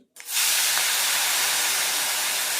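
Chili powder hitting hot oil in a pan for Marathi methi bhaji, a sudden loud, steady sizzling hiss that surges up and holds, with fenugreek leaves about to go in.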